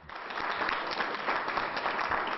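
Applause fills a Houston courtroom as a man is declared innocent after 30 years in prison, a dense, even clapping that holds steady at moderate volume for a couple of seconds.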